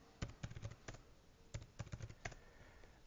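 Two quick bursts of keystrokes on a computer keyboard as a username and password go in, soft and near, with rapid clicks in each burst and a short pause between them.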